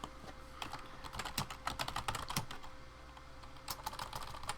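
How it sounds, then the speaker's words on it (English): Fingers tap out a quick, irregular burst of keystrokes on a computer keyboard, close and fairly quiet, with no voices over it. "I was just typing it in."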